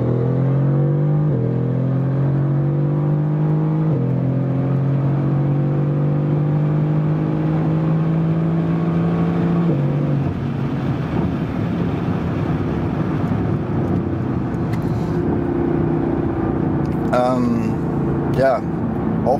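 A 2018 Mercedes-AMG GT R in Comfort mode accelerates on the Autobahn, its engine note rising steadily through the gears with a shift break, then settling into a continuous road and wind roar. The sound is fairly loud and close, and the car is comparatively restrained in tone.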